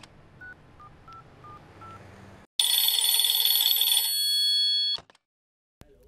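A phone call is placed: a string of short keypad dial tones, then a loud electronic ringing burst that stops abruptly, followed by a brief click, no speech.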